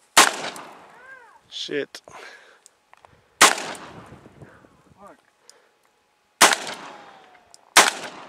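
Four loud, sharp gunshots ring out at a target outdoors, each followed by a decaying echo, with pauses between them and someone speaking briefly in between.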